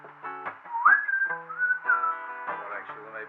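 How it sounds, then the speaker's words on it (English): A man whistles a wavering, sliding tune up close during a Flight Simulator livestream, the melody rising and gliding in a few phrases, loud and clear with no talk over it. "he's just whistling now."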